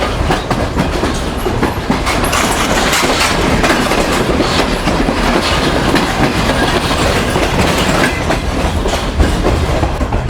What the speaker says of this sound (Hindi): तो ये सम्मासट्टा जंक्शन रेलवे स्टेशन को ट्रेन स्किप कर रही है।